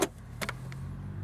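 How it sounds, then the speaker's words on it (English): A car trunk is released with a quick mechanical clunk and latch click, followed by a soft thud, close up over a low idle hum. "We'll go ahead and pop the trunk here for you."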